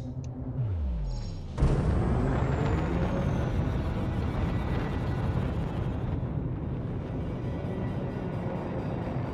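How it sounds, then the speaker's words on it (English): Spaceship engines engaging in the video game Elite Dangerous: a low rumble sweeps downward, then a sudden loud burst of roaring thrust that holds steady and powerful, with no talk over it. "Ship released. Engines engaged."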